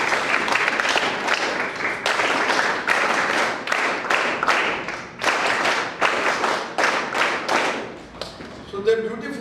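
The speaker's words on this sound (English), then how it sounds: "A big clap for them." A school audience at the Gyan Samvardhan Programme at AECS 2 in Mumbai applauds for student performers: dense, loud clapping from many hands running steadily for about nine seconds, tapering briefly near the end.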